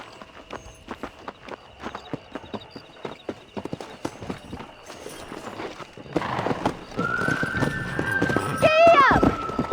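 Horse hooves clip-clopping in Red Dead Redemption, steady walking strikes that quicken into a gallop, joined near the end by a whinny, with people talking over the riding.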